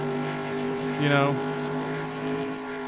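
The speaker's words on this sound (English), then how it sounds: "The engine sounds, they're almost perfect for a race like this" Race car engines in the 1996 video game NASCAR Racing 2 drone steadily at a constant pitch, with a brief rising whine near the middle as a car passes close, all under a faint layer of commentary talk.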